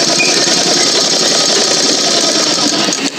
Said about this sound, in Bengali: এবার আমি এটা এইভাবে ঘুরিয়ে সেলাই করব।